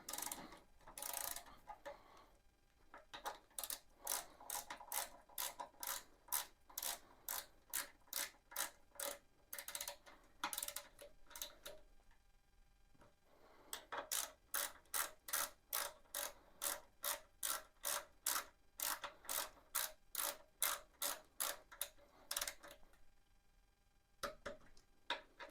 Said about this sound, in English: Okay, then this gets torqued to 23 foot-pounds.